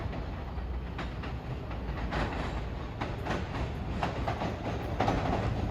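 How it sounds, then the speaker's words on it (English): An MBTA Blue Line subway train approaches Orient Heights station in Boston, heard as a steady rolling rumble with faint clickety-clack wheel beats, moderately distant and without voices. "We have a Boden-bound train approaching Orient Heights."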